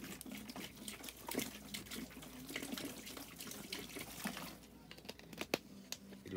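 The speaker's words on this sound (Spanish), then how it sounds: "Echa agua" Water poured onto compacted coconut fiber substrate, a soft trickling and splashing with crinkly crackles as the fiber soaks, fairly quiet and continuous with a few sharper drips near the end.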